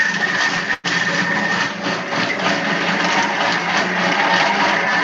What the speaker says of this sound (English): it's got 1 minute using our blending mode